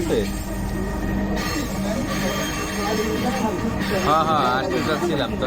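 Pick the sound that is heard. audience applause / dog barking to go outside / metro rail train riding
metro rail train riding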